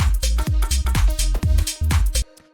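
A bright saw-wave synth lead for a tech house track, treated with phaser, echo and reverb, plays a choppy rhythmic riff of short repeated notes, loud and up front, with a reverb tail trailing off at the end.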